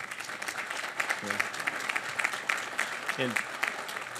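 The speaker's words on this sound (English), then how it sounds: "So a round of applause for John as well." An audience at a groundbreaking ceremony in Boston applauds steadily, a dense patter of clapping hands, with a voice briefly audible beneath it.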